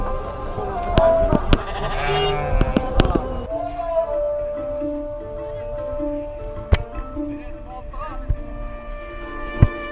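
Sheep bleat at a livestock auction market in Osh, Kyrgyzstan, several cries near and far mixed with sharp clicks and knocks while people talk over the crowd noise.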